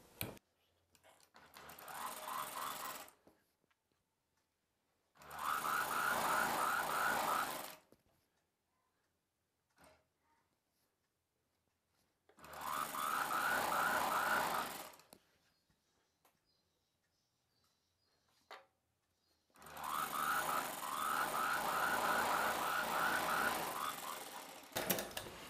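A sewing machine stitches the hem of palazzo pants in four separate runs of rapid, steady mechanical chatter, each a few seconds long, separated by near silence and a few soft handling clicks.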